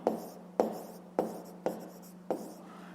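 Pen strokes on paper while working a school maths exercise, five short scratching bursts at a steady rhythm, each a sharp attack fading quickly, close and fairly quiet over a faint low hum.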